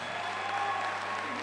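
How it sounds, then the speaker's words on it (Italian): Audience applause at an Italian singing show fills the moment as a steady, dense patter of many clapping hands, moderately loud and even throughout. "Un bel applauso"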